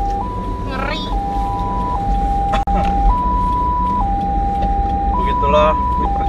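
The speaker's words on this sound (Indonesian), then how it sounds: "Itu ambulan loh." An ambulance siren wails in a steady two-tone pattern throughout, heard from inside a moving vehicle with road rumble, while people talk over it.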